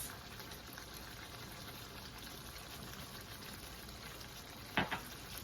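Chicken korma curry simmers quietly in a pot with a soft, steady bubbling and faint sizzle, ending with a couple of brief sharp clinks as it is stirred.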